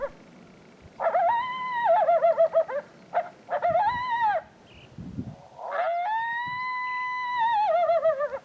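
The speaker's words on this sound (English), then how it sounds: "So now I'm going to play the crow calls" Long, wavering electronic crow calls from a game caller, used to draw coyotes, repeat in several drawn-out bursts, loud and close, with short pauses between them.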